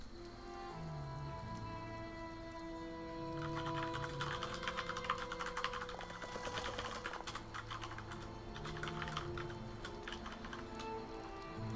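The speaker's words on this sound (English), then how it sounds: "I was just typing some stuff out, guys" Computer keyboard typing during Elder Scrolls Online play, a steady run of light clicks and taps layered over game music and ambient tones, busiest in the middle stretch, with no talking.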